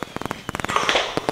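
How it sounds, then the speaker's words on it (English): A rapid, uneven series of sharp firecracker-style pops and crackles from a fireworks sound effect, loud and close, with a brief fizzing burst in the middle. "Fireworks."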